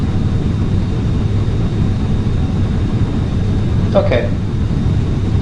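A flight simulator plays a steady, droning aircraft engine during a runway takeoff roll, holding a constant low hum throughout while someone speaks briefly over it.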